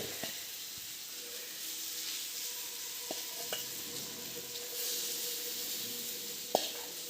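Chicken pieces sizzle and hiss steadily in a hot pan for home-made shawarma, with occasional light clinks and scrapes of stirring over the continuous frying noise.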